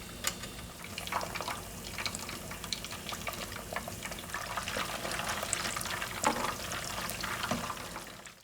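Steady, crackling sizzle of beer-battered fish frying in hot oil, with sharper pops and spits scattered throughout at close range.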